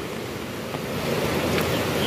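The flooded Roro river at Chaibasa after heavy rain rushes past in a steady, loud, broadband roar of churning water, with no voices.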